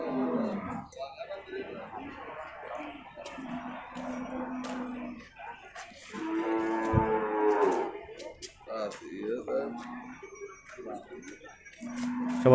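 Several cattle moo loudly and repeatedly at the Purwakarta livestock market in Indonesia, one long low bellow standing out, amid a noisy crowd of people talking nearby.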